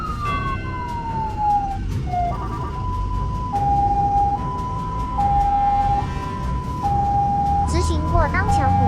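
An ambulance siren wails continuously during an emergency run through morning rush-hour traffic, sliding down then alternating between two tones, loud and steady over road noise and engine rumble, with a voice speaking over it.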